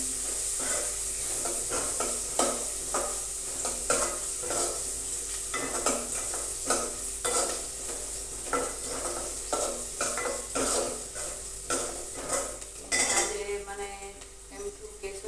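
Chopped onions frying in a pan for a home-style dish, with a metal spoon scraping and clattering against the pan in a busy, irregular rhythm over a soft, continuous sizzle, close up and without talk.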